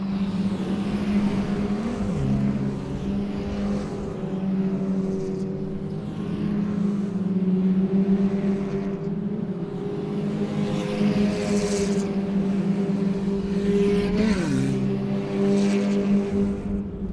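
Race cars roar around a circuit during a racing round, a continuous loud engine drone with pitch swoops as cars pass and shift.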